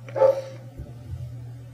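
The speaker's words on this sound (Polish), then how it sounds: "Ten pies zawsze mi musi przeszkadzać." A dog barks once nearby in a room, a short sharp yelp-like bark followed by a steady low electrical hum in the background.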